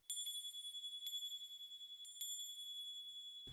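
A small handbell rings in a few bright strokes, each one shimmering and lingering before the next, clear and close against near silence.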